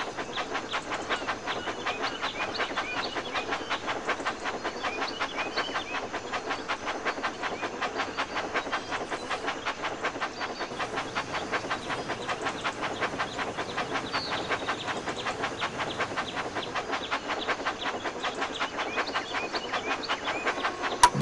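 A toy train in the Thomas and Friends: Magical Tracks video game runs steadily with a fast, even clickety-clack and a soft hiss, continuous and unchanging from start to finish with no voices.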